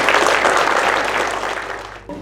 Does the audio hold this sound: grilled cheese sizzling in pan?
no